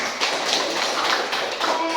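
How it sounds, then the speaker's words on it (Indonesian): Schoolchildren in an elementary classroom clap their hands together in a brief burst of fairly close, busy clapping, with voices mixed in. "Tepuk tangan dulu untuk kita semua"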